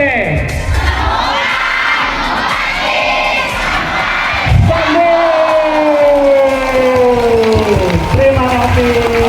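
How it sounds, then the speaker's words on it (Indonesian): A crowd of school students shouts an anti-TB slogan in loud unison and follows it with clapping and cheering, voices close and energetic throughout. "nanti terus tepuk tangan gitu ya"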